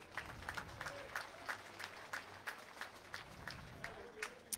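An audience at a petanque triplette final in Draguignan claps in a steady, rhythmic beat, moderately distant and fairly soft, with a voice talking over it.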